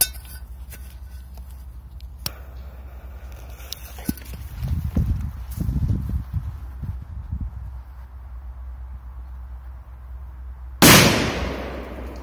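A "beetle" firecracker set off in a bowl, with a quiet stretch of faint handling and low rumbles before one sharp, loud close blast that rings briefly and fades.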